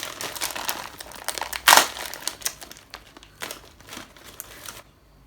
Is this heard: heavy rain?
no